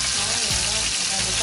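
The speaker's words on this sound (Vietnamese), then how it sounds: "Đó nó xèo xèo nữa cà" Food frying in a pan over a wood fire while tomato sauce is stirred in for Vietnamese tofu stuffed with pork, a loud dense continuous sizzle with stirring scrapes, close and alone.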